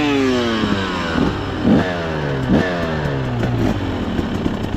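A KTM XCW 300 two-stroke dirt bike engine runs close by while ridden in first gear, its pitch climbing and dropping in repeated revving sweeps with clattery bursts, loud and alone with no talk.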